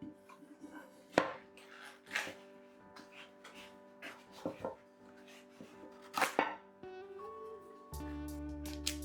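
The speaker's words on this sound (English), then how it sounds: "Now it's time to slice the nougat into squares." Knife slicing firm rose nougat into squares, producing sharp, quiet cuts and taps against a board at an irregular, slow pace, close up, with light background music.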